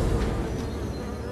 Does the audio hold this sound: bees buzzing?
yes